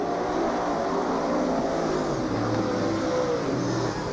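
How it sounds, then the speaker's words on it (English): Pontiac and Camaro super sedans roar past on a speedway oval during a 1997 championship meeting, a loud steady engine drone with rising and falling pitch as the cars sweep by. "Through comes the Pontiac of Stephen Murphy, the Camaro in pursuit."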